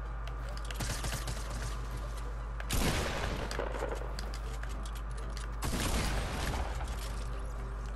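Gunfire in the Fortnite battle royale video game, with two louder bursts of shots around the third and sixth seconds over a steady bed of game noise and scattered clicks.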